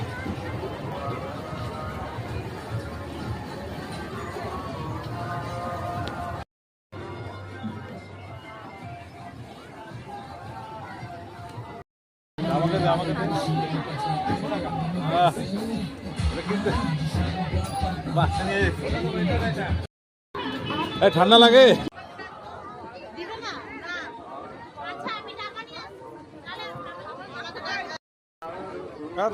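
Crowd chatter at the Shrabani craft fair on the Parade Ground in Alipurduar: a steady babble of many voices at a busy evening fair, broken by short silent gaps, with a nearby person talking over it.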